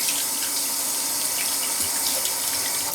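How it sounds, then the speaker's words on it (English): Warm water runs steadily from a tap over a skin care brush as it is rinsed, a continuous close splashing hiss with no voices. "So I rinse it in warm water."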